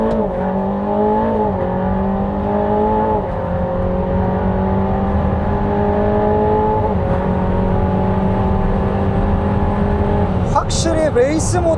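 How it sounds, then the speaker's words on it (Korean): An Aston Martin Valhalla supercar launches in race mode, its engine note climbing steadily and loudly through the gears, heard from inside the cabin with a brief shift near the end. "레이스 모드 론치"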